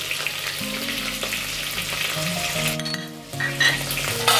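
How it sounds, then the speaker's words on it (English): Chopped ginger, green chilies and curry leaves hitting hot oil with cumin seeds in a tadka for Sindhi kadhi, giving a loud, close, continuous sizzle and crackle with some stirring throughout. "I'm going to add the finely chopped ginger, the green chilies and the curry leaves."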